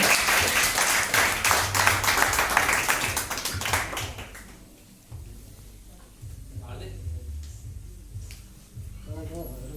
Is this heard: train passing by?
no